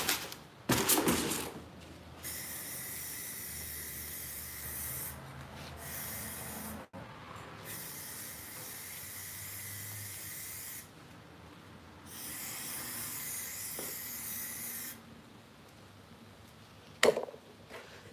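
Aerosol spray paint hissing in long sustained bursts as a rolling tray is coated, with short pauses between passes and a few sharp clicks and knocks of handling.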